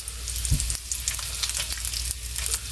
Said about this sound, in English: when you fry the meat in it